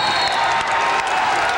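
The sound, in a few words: basketball crowd cheering in Siebens Fieldhouse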